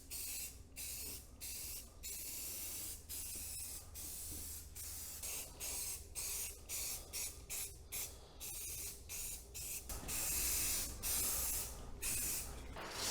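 Aerosol primer sprayed onto trailer fenders: a close, steady hiss in repeated bursts broken by brief pauses, no voices.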